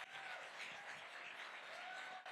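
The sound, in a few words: audience applause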